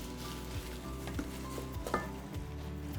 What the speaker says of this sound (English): I'm just chopping it with the back of a spoon